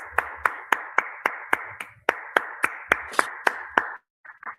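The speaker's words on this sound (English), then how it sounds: "Let's give her a round of applause." Applause during an online women-in-trade webinar, heard as about a dozen evenly spaced, crisp hand claps from a nearby source, stopping abruptly before a brief faint voice.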